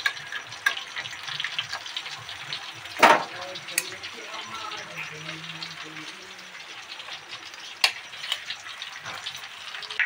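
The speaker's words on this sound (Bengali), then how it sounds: "এগুলোকে আস্তে আস্তে গ্যাস করে আমি ভেজে নিলাম" Chicken sticks fry in oil in a pan over a gas stove, giving a steady, close sizzling hiss with a few sharp clicks and scrapes from turning the pieces.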